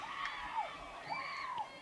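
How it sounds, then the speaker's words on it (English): A cheering section whoops and shouts at a girls' high school ultimate frisbee state semifinal, a brief burst of high excited voices heard at a moderate distance. "the South End cheering section's going crazy"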